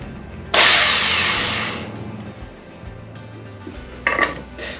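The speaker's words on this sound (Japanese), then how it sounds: "みんな大好き電動のこぎりの時間です" An electric saw bursts into a loud, close whine as it cuts a 2x4 board to 25 cm, runs for about a second and a half, then winds down, followed by a brief second burst near the end.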